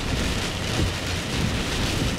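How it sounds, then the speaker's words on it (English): Heavy rain from Tropical Storm Gordon pours down in a dense, constant roar, loud and close, with a deep low rumble underneath. "Yeah, it's dumping rain."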